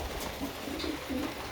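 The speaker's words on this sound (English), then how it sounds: "Birds are walking on it just fine." Pigeons or doves cooing softly a few times while walking on a durable, heavy-duty outdoor surface, low murmuring calls over steady background noise.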